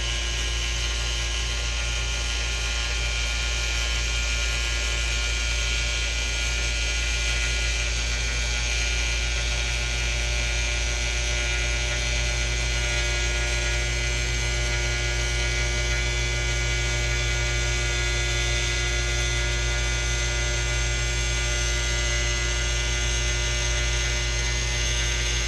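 A needle cutter machine runs with a steady, loud mechanical hum and buzzing whine, continuous and unchanging throughout.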